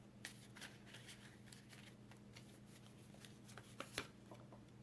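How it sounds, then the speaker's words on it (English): Soft riffling bursts of a deck of cards being shuffled, repeated in quick irregular flurries, close and fairly quiet with no talking. "This deck is getting big enough that it's difficult for me to shuffle"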